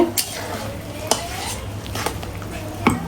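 Ingredients are mixed with squeezed lemon juice for a rice dish, the spoon scraping and clinking against the pot in quick close strokes over a light sizzle.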